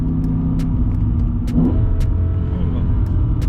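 A BMW E60 M5 accelerates with its 500-horsepower power mode engaged, a loud, steady engine roar heard from inside the car, rising slightly midway, with faint ticks and clicks over the rumble.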